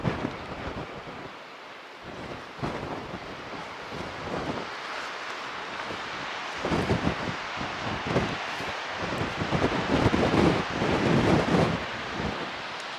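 Strong wind gusting around Arthur's Pass, New Zealand, a steady roaring buffet that swells louder in the second half, with no voices.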